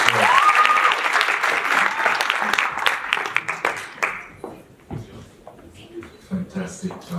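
Applause from a student engineering conference audience rises loud and dense, then thins into scattered claps and fades as a voice speaks over the tail end.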